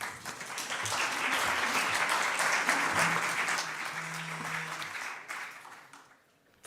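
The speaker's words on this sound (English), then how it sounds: "for which I ask you an applause" A conference audience applauds after a panel moderator is introduced, a broad sustained wash of clapping lasting several seconds before tapering off into quiet.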